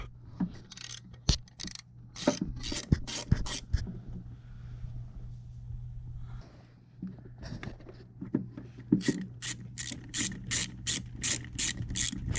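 Ratchet wrench loosening the two hold-down bolts on a GM ignition control module, a series of sharp clicking pawl bursts in quick runs with short pauses, close and fairly loud, with no talk.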